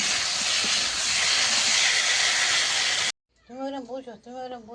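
Large potatoes being sautéed in a pan hiss in a steady, close sizzle for about three seconds; it cuts off abruptly, and then a voice speaks.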